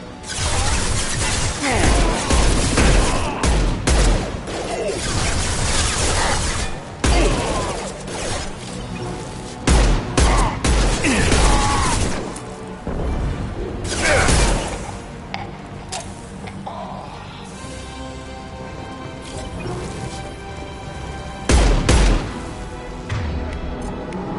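Dense gunfire in the Mass Effect 2 video game, with loud rapid bursts, crashes and heavy impacts repeating through the whole stretch, mixed with game sound effects.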